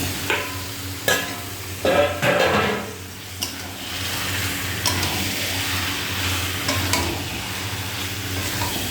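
Chicken goes into a frying spice paste, hissing steadily while a spoon scrapes and clanks against the pan in irregular strokes, close and fairly loud.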